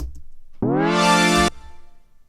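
A sustained synth tone, rich in harmonics, whose brightness sweeps as the master filter cutoff is modulated, holding for nearly a second before cutting off abruptly, with a faint low pulsing before and after.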